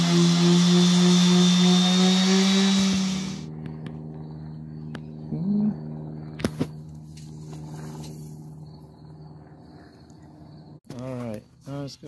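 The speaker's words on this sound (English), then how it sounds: "I am using my power sander with a mask" A power sander works Bondo filler on the roof of a Coleman pop-up camper, whirring loudly and steadily for about three seconds before cutting out, followed by quiet knocks and a brief voice.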